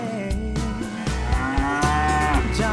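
A cow moos loudly and close, with several long drawn-out lowing calls in a row, alone and with no talk.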